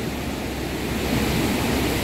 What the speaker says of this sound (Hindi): सारा पुल टूट गया है और नदी का बहाव कुछ ऐसा भयानक